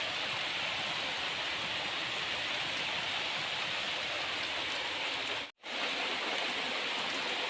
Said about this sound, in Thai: ฝนตกฝนตก พี่น้องฝนตก